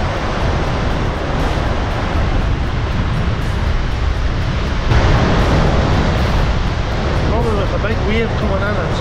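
Sea waves roll in and splash up over the rocks at the Herring Pond in Portstewart, a loud steady surf roar with a bigger surge midway and wind noise on the microphone.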